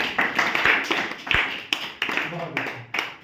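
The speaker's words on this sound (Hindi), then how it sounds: "भाई इनके लिए तो ताली बजा दो।" Students in a classroom maths lesson on ratios clap for a classmate, a small group producing a loose, rhythmic series of distinct claps with talk audible alongside.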